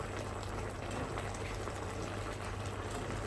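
Undrained cooked pasta poured straight from the pot into a dish, a steady close wet hiss and slosh of water and noodles running continuously without pause.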